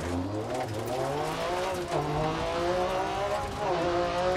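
Metro 6R4 rally car in Dirt Rally 2.0, engine loud and close, revving up and down through shifting harmonics as the car slides into oversteer, with gravel hiss and tire noise throughout.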